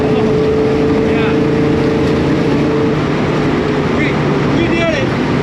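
A Chevelle fitted with a Holley carburetor accelerates hard in second gear, its engine a loud, sustained roar with buffeting wind noise, while a voice talks excitedly over it.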